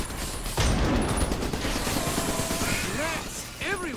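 Scattered gunfire and impacts from the video game Trenched, a few sharp bursts amid mechanical noise and game effects, with someone talking over them.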